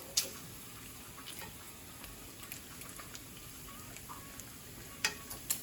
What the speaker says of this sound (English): Okay, it's sizzling.